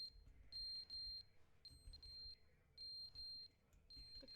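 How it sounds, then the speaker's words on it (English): Intermittent electronic smoke alarm beeps in a video game, high-pitched chirps repeating in bursts of about half a second over a low rumbling background, moderately loud. "Oh no, the smoke alarm."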